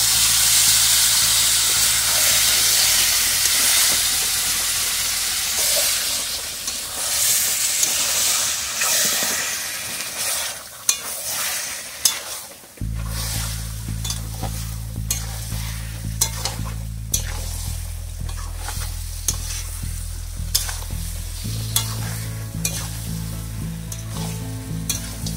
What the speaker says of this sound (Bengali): মশলা প্রায় আমাদের কষানো হয়ে গেছে, এখন দিদি মাংসটা ঢেলে দেবে।